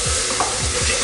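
Kaldereta with tomato sauce being stirred in a pan, giving a brief, close, thick wet swish and scrape over a constant sizzle, with no talking.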